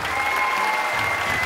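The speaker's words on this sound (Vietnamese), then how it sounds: "Vỗ tay nồng nhiệt." Warm audience applause at a Vietnamese comedy show, steady dense clapping filling the whole moment at close range with no pauses.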